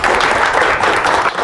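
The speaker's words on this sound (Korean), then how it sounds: "많은 큰 박수 부탁드립니다" An audience at a Korean tech talk on deep learning for smartphones breaks into steady, dense applause, loud and sustained throughout.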